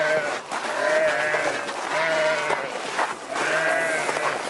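Several goats and sheep in a Sahara desert herders' camp bleat in a wavering chorus, close and fairly loud, with overlapping calls repeating every second or so.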